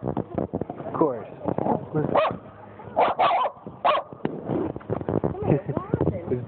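A puggle dog barks repeatedly in short, echoing yips and woofs, close by, mixed with people talking over and between the barks.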